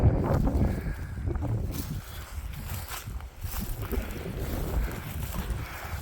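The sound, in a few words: wind on a blustery moor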